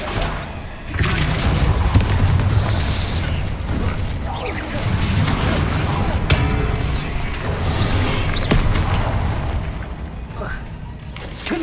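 Hogwarts Legacy combat spells Bombarda and Confringo bursting in a rapid series of booming explosive thuds with mechanical clatter, dense and continuous throughout.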